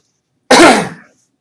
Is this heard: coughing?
yes